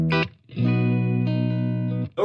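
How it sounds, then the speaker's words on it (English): An Ibanez RG450DX electric guitar plays through channel one of a Marshall 6100 amplifier with no reverb, loud and close: a short plucked note, then a sustained chord ringing for about a second and a half before being cut off. "This is my sound through the channel one of the Marshall."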